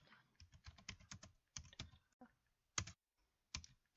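Keys on a computer keyboard clatter in quick bursts of clicks, separated by short pauses, close and fairly quiet with no talking.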